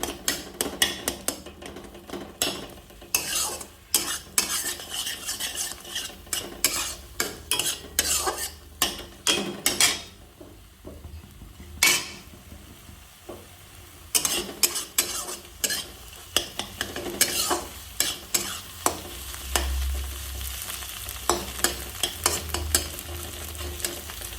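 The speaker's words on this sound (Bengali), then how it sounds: "ভুজিয়াটা কিন্তু ভাজা হয়ে গেছে, একদম লাল লাল করে ভেজে নিয়েছি ধীরে ধীরে করে।" Bhujia stir-fried in a pan, with repeated scraping and clinking of a spatula against the metal over a continuous sizzle, close and loud, pausing briefly midway before the stirring resumes.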